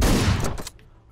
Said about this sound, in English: y'all gonna hear how loud the fucking shotguns really are